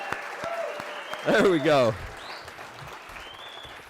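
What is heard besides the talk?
audience clapping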